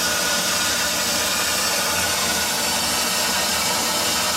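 Water slowly turned on rushes through water system lines during a flush, producing a loud, steady broadband hiss and rush that continues unbroken and alone.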